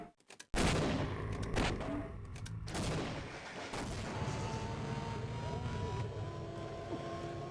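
Heavy gunfire rings out during the final boss fight of the video game Half-Life, where the player shoots at the boss's face. A burst of sharp shots opens, followed by a loud, sustained rumbling barrage. No voices are heard.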